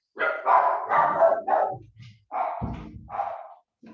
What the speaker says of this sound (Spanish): Mis perros están ladrando.